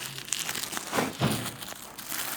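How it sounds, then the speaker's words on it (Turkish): A plastic bag is pulled open by hand, giving close, busy crinkling and rustling with a few sharper crackles throughout, with no speech over it. "Bu yüzden kız poşet şöyle açayım."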